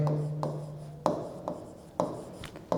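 Pen writing on paper, heard as a series of short scratchy strokes with small taps at irregular intervals, quiet and close, with no talking.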